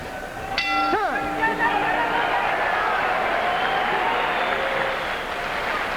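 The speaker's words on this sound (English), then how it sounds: "And the crowd gets behind the challenger again." A boxing arena crowd roars in sustained cheering for the challenger at a championship fight, while a ringing bell clangs near the start and the loud crowd swell carries on to the end.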